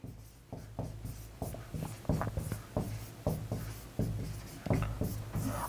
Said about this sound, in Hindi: लिख देता हूं मैं